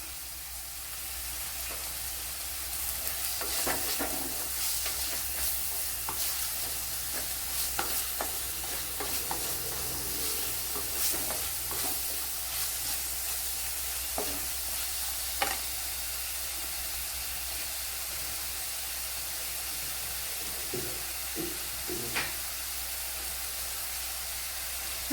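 Curry leaves crackle and sizzle in hot oil for a fish curry, with a steady frying hiss throughout and scattered sharp pops and spatters, fairly close and without speech.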